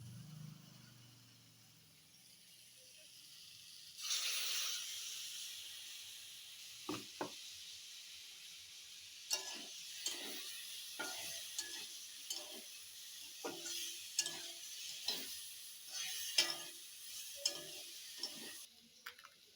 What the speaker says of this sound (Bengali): এবার আমি পেস্ট করে রাখা আদা রসুনটা দিয়ে দেবো